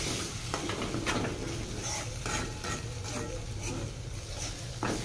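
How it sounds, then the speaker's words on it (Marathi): Masala spice mix being stirred in a pan, with repeated scraping strokes and a soft sizzle of frying running underneath, close and steady throughout. "ते बघा मसाला टाकून घेतलाय मी सर्व आणि आता मिक्स करते"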